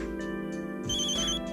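A telephone rings with a bright electronic ringtone, several tonal beeps shifting pitch in a quick melodic pattern, heard alone and fairly close, signalling a call from a hospital.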